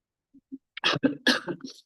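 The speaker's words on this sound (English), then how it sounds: "I'm sorry, I have a cough that is terrible." A few sharp, close coughs in quick succession, preceded by two soft throat sounds.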